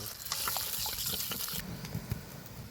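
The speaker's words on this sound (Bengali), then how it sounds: "এবার সর্ষে বাটার জলটা দিয়ে দিব।" Mustard paste water poured into a pan of fish curry gives a soft, close trickle and splash that lasts a couple of seconds and changes slightly in tone partway through.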